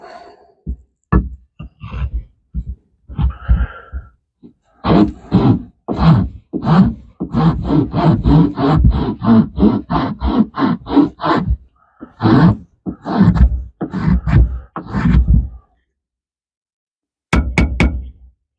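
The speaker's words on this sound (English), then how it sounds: "So let's get the rasp on the back of that." Rasp teeth on the spine of a Camillus Swedge knife scraped in quick rhythmic strokes, a close, loud series of rough rasping bursts with short pauses between runs.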